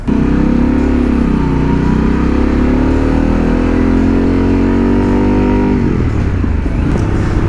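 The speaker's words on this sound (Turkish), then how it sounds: "Daha dördüncü vitesten yukarıya atamadım motoru. Sese bakın." A motorcycle engine revs hard and climbs steadily while riding, loud and close, with a continuous throaty drone that eases off near the end, and no talk.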